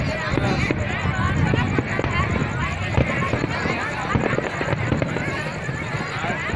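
Dense, continuous crackling and booming fireworks set off over Saigon near the Thu Thiem tunnel, loud and constant, with crowd babble and voices mixed underneath.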